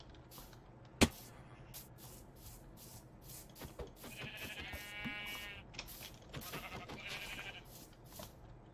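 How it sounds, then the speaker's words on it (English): Sheep in the Minecraft video game bleat several times in quick succession, with clear wavering game bleats in the middle, alongside repeated scuffing footstep or block sounds and one sharp loud hit near the start. "They are sheep!"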